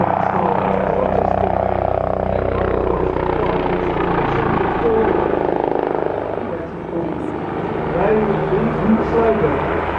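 Bell 407 helicopter flying at an air show, a steady loud rotor and engine drone filling the whole clip with slight swells, while people talk over it.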